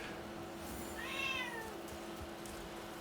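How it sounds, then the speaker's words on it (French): A cat gives a single drawn-out meow, rising then falling, fairly close but soft against a quiet room background. "Mais lâche-moi, mon petit chat d'amour."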